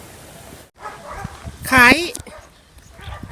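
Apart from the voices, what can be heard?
dogs barking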